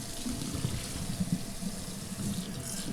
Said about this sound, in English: I've got this hot water